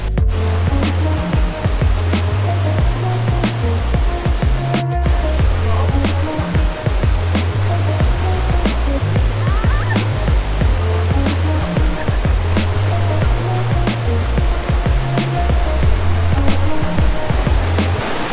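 A waterfall in a Thai national park roars close by as a dense, unbroken rush of falling water that stays loud and even throughout.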